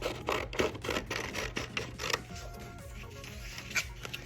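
Scissors cutting a sheet of paper along a drawn line, a series of crisp, close snipping and slicing strokes at a quick rhythm for about two seconds, then a softer rustling.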